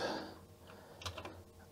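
Keys tapped on a Commodore C16 home computer keyboard, a few quick light clicks in a short burst, fairly close, with a faint background hum and no talking.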